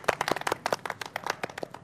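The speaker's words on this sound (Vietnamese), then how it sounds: "thôi vỗ cho một tràng vỗ tay." A small group claps in a brief, uneven round of applause, close and fairly loud, with no talking.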